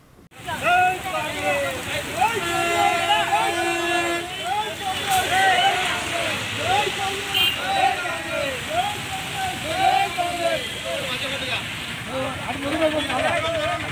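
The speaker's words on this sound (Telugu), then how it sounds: "వర్షం ఎట్లా పడుతుంది, ఫోన్ ఖరాబ్ అవుతుంది" Rain falls steadily outdoors as a constant hiss over three busy minutes of street sound, with voices talking and babbling throughout in the foreground.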